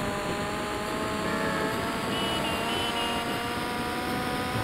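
Motorcycle ridden in the video game GTA Vice City gives a steady, unbroken engine drone with a faint high whine, holding at an even level throughout with no talking.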